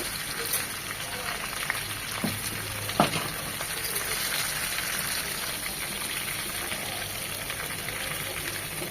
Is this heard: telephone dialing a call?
no